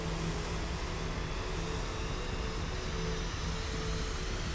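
Jet engine in the Kerbal Space Program 2 game hums as a steady, faint airy roar with a low droning tone, no voices over it.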